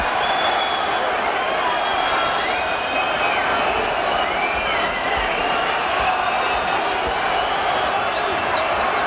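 A boxing arena crowd roars continuously, with loud cheering, whoops and scattered shouts throughout a heavyweight bout.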